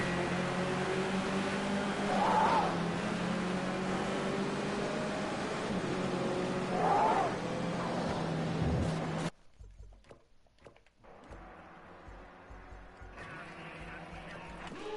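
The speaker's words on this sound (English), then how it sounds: "Look at here go the GT4s." GT4 race cars accelerate from the start at Hockenheim, a sustained engine roar that cuts off abruptly into quieter, more distant engine noise, with no talk over it.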